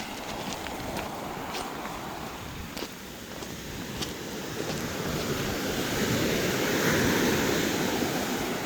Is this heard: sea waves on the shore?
yes